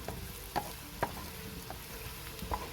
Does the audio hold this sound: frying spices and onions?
yes